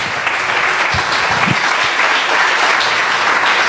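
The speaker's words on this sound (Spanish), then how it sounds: "Denle un aplauso a Jesús." A church congregation gives loud, sustained applause during a sermon, a thick, close wash of clapping with a few brief low thumps underneath.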